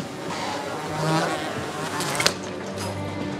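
Flies buzz close by in a continuous droning hum, wavering in pitch, set against ambient background noise with a brief sharp sound near the end.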